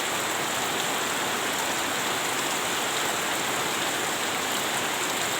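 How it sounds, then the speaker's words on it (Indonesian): Steady rain pours down at a fishing spot on Cirata, a dense, loud hiss of drops hitting surfaces that never lets up, with no voices. "dah hujan kejatkeun lagi"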